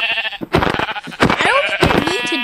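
Sheep in the Minecraft video game bleat repeatedly, several close, loud wavering bleats in quick succession, with brief speech mixed in.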